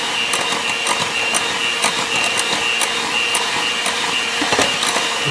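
An electric hand mixer whirs steadily through chocolate dessert bar mix batter for Heath premium bars, a continuous close mechanical hum with faint rhythmic clicks from the beaters against the bowl.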